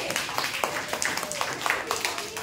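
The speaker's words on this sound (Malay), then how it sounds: "Berikan tepukan yang gemuruh kepada adik." Pupils in a classroom clapping for a classmate, a brisk, scattered round of applause heard close by and filling the whole stretch.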